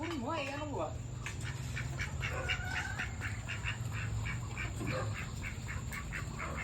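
Ducks quack in short repeated bursts outdoors, mixed with a steady background hum while people talk nearby.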